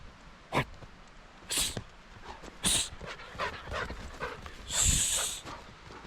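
A dog named Diesel, excited near a rain-swollen farm dam, pants and snuffles in short bursts with a sneeze-like snort, close to the listener over faint background noise.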